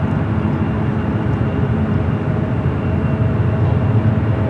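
Boeing 737 jet in Aeromexico's updated livery at San Francisco International Airport, producing a steady, loud broadband engine roar that holds evenly throughout with no pauses.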